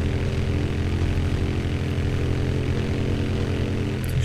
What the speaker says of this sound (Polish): ten motor nie może jechać szybciej